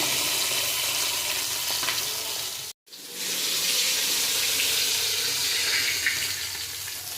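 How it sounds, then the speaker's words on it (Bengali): Saiting fish frying in a pan for a Bengali-style jhal, a loud dense hissing sizzle that runs steadily with a brief gap midway, close and alone without talking. "মাছগুলো ভাজা হয়ে গেছে"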